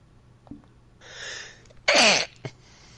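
A single loud close sneeze with a sharp inhale before it, followed by a brief small throat noise, in a quiet room.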